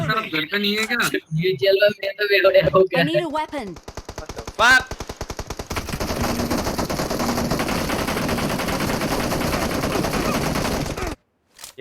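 Rapid bursts of automatic gunfire from the video game PUBG Mobile, played on PC, rattle loudly in the middle, with excited voices talking before and a dense game soundscape after.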